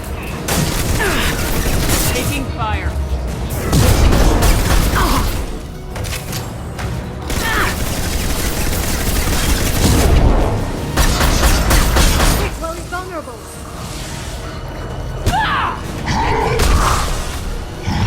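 Gunfire from a Mass Effect 2 combat sequence, dense and continuous, with heavy thumps and booms under rattling shots that roll on for many seconds, and brief speech in places.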